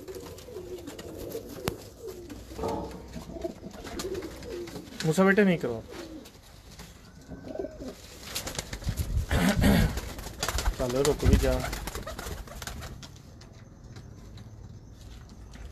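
Salara breeder pigeons coo and flutter in a loft, soft low cooing spread through the scene while someone speaks over them in bursts.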